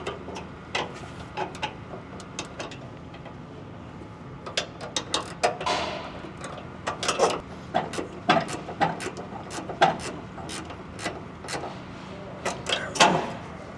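A nut being tightened onto the handle of a B&W gooseneck hitch in a 2025 GMC truck, heard as a long run of metallic ratcheting clicks that come faster and louder toward the end, close up with no voices.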